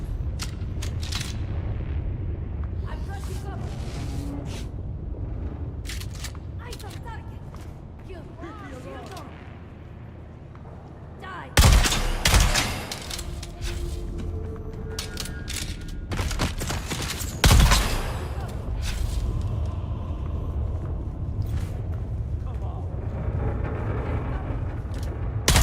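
Gunfire in the game Dune: Awakening, with scattered shots and then two heavy booming bursts partway through, loud and close over rumbling background noise, while a voice talks at times.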